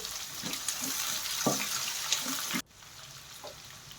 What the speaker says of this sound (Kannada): ಕಡಲೆ ಬೀಜ ಎಲ್ಲ ಚೆನ್ನಾಗಿ ಹುತ್ತಾದಮೇಲೆ ಮೇಲೆ ಉದ್ದುದ್ದಾಗಿ ಹೆಚ್ಚಿರೋವಂಥ ಈರುಳ್ಳಿನ ಸೇರ್ಕೊಂಡು ಸೇರಿಸ್ಕೊಂಡು ಗೋಲ್ಡನ್ ಬ್ರೌನ್ ಬರೋವರೆಗೂ ಹುರ್ಕೊಳ್ತಾ ಇದ್ದೀನಿ